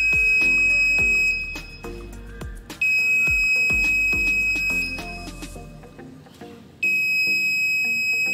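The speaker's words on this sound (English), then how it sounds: "it sends the high signal to the buzzer and the buzzer starts beeping" Buzzer of an ultrasonic-sensor home security system beeping in a steady repeated pattern of sharp electronic tones, loud and close, with a brief drop in level partway through.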